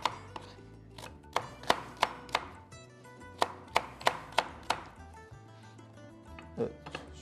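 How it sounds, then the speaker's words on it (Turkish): A knife chops apples and pears into small cubes on a cutting board in an Anatolian cooking kitchen, with a steady series of crisp, close strikes and brief pauses, no talk. "Ufak kuşbaşı şeklinde doğrayalım"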